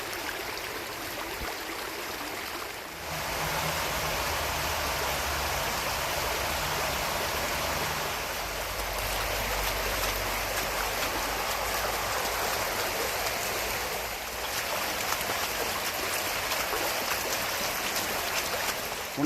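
Stream water flows gently through small holes in a structure after rain in the Hollywood Hills, a steady broad rushing hiss nearby, with no talk.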